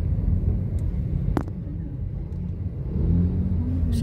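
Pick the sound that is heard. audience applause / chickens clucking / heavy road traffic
heavy road traffic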